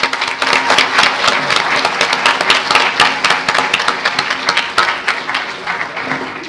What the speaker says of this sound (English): All right, let's give Dawn a big round of applause.